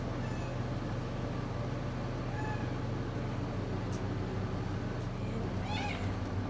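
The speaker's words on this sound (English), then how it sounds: "Clover, the world's cutest kitty cat." A cat named Clover gives a few faint meows over a steady low rumble of background noise at a horse barn, soft and distant rather than close.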